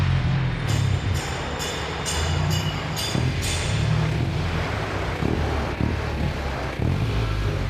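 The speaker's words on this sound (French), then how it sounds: "Écoute le bruit du moteur." A van's engine and exhaust rumble loudly and continuously up close, with a steady low drone and some uneven pulsing throughout.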